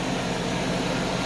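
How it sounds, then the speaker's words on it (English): A 1991 Mercedes 190E engine idles with a possible exhaust manifold gasket leak, producing a loud, steady, close-up drone with no break. "I kind of hear a little bit of the gasket noise from the exhaust manifolds."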